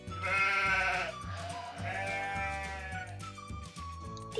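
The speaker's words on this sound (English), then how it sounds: "And our last animal is a sheep." A sheep bleats twice in long wavering calls, close and moderately loud, over a repeating background music track.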